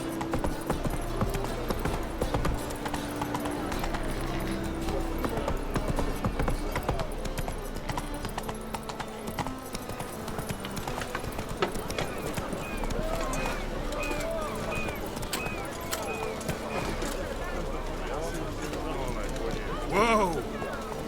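Hooves of Roach, the horse in The Witcher 3, clip-clop at a steady gallop under continuous game music, with a voice urging the horse on and a brief louder burst near the end.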